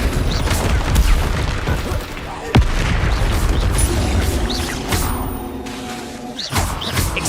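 Bombarda and Confringo spells bursting in Hogwarts Legacy, with repeated booming blasts and sharp pops, one standing out strongly, over a busy game soundscape.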